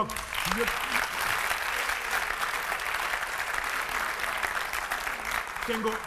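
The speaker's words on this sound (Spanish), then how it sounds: "Estáis aplaudiendo a una demostración vocal" An audience applauds a vocal performance at a live show. The clapping is steady and sustained throughout at moderate loudness, with no breaks.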